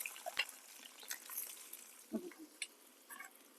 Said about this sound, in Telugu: ఆల్రెడీ ఆయిల్ వేడెక్కింది పచ్చిమిర్చి వేసేద్దాం తర్వాత వెంటనే ఉల్లిపాయలు కూడా వేసేద్దాం